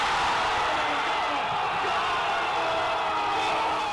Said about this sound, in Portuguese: Em Buenos Aires, a torcida explodiu.